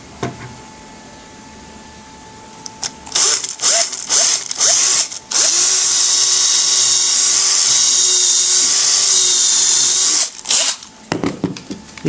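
Power drill boring a pilot hole into cabinet board for modular furniture boxes, with short whirring bursts and then one long steady high-pitched drilling run, ending with a few brief stops.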